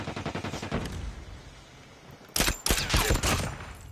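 Bursts of automatic machine gun fire in the Call of Duty: Mobile shooter game, several loud rapid volleys clustered over the last second and a half after a quieter stretch of game noise.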